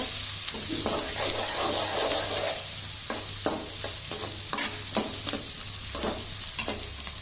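Onions and chilli frying in a pan for hot and spicy noodles give off a steady, close sizzle, broken by regular scraping stir strokes throughout.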